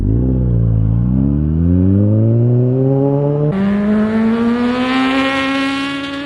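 A homemade car built from scratch revs and accelerates on a test run, its engine note climbing steadily through a gear change midway, loud and close throughout with no talk.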